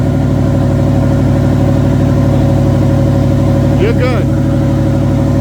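A 1960 Pontiac Bonneville engine runs loud and close with a steady, throbbing drone throughout, while someone briefly speaks over it partway through.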